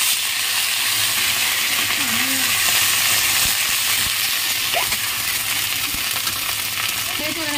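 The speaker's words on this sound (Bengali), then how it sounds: "এই যে আদা বাটা, জিরে বাটাটা দিয়ে দেবো।" Ginger and cumin paste frying in hot oil for a paneer and green pea curry: a steady, close sizzle and hiss throughout, with faint stirring clinks now and then.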